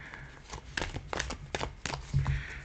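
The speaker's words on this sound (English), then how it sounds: "Shuffle it a few times." A few quick riffling bursts of a tarot deck being shuffled, close and fairly quiet, with short pauses between each flutter.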